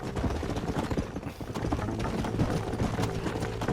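Horse hooves clip-clop steadily in Red Dead Redemption, a continuous trotting rhythm of close, fairly loud beats that runs throughout without a break.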